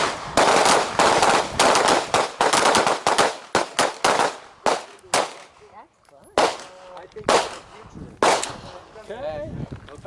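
A handgun fires in bursts of three or four rounds on a training range: sharp, loud, closely spaced reports repeated in several groups. Echoes decay between the groups and a few brief voices come in during the pauses.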